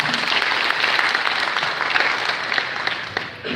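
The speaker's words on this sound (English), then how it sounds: "Please give him a round of applause." An audience at a graduation pinning ceremony applauds as a university official comes up to speak, a thick, steady round of clapping that thins slightly near the end.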